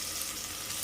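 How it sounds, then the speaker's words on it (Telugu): Tempering spices fry steadily in hot oil for a cabbage and moong dal curry, giving a continuous close, bright sizzle with no talking. "ఇప్పుడు పోపు కూడా మనకి వేగిపోయిందండి."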